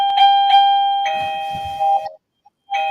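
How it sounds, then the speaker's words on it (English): A home doorbell sounds close and loud with a bright two-tone chime, ringing twice and then again after a brief pause, with the tones lingering and a little soft rustle in between. "Someone's ringing my doorbell."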